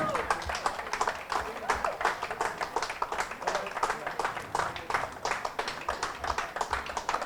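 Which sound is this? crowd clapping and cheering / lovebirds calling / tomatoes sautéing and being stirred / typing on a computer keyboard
crowd clapping and cheering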